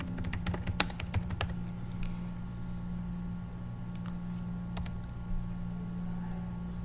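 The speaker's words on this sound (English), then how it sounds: "we're going to type in the address" Someone types a blog address on a computer keyboard in a quick burst of close, crisp key clicks, then pauses, with a few isolated taps later over a steady low electrical hum.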